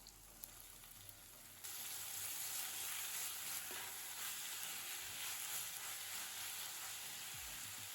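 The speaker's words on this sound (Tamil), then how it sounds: "ஒரு நிமிஷம் லோ ஃப்ளேம்லேயே வதக்கலாம். அரை கேப்சிகம், ஒரு கேரட், ஒரு தக்காளி" Capsicum, carrot and tomato sauté in a pan on low flame, a steady close sizzle that starts abruptly after a quieter opening and continues evenly with faint stirring.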